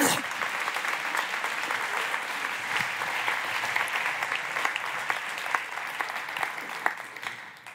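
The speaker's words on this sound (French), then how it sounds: "Je vous demande d'applaudir chaleureusement Lucille Pochevance." Sustained applause from a conference audience fills the room, a dense even patter of many clapping hands lasting the whole stretch and fading slightly at the end.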